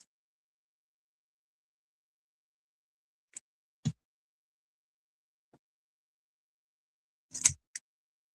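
Ribbon scissors snip ribbon during a card-making session, giving a few short, quiet cuts spaced apart in near silence, with a pair of close, sharper snips toward the end.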